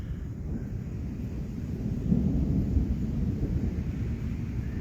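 A thunderstorm moving toward the southeast along the Florida coast sends up a steady, low, continuous rumble of thunder that swells slightly midway, heard from a distance with wind noise and no talking.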